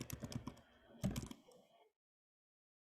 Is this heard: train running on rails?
no